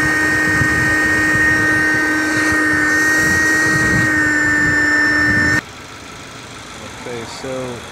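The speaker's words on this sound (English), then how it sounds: "Vacuum's also a wet vacuum, so wet and dry." A wet and dry vacuum cleaner runs with a steady loud whine and motor drone for several seconds, then switches off, leaving a quieter room with faint sounds.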